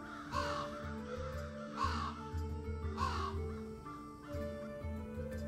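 A crow or raven cawing three times in slow, evenly spaced harsh calls over a low steady hum, fairly faint and alone.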